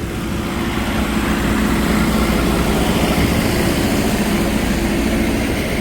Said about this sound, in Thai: มีเครื่องยนต์ดีเซล 4 สูบขนาดเล็กครับ เอาไว้ปั่นระบบไฮดรอลิกสำหรับระบบโม้ปูนโดยเฉพาะเลย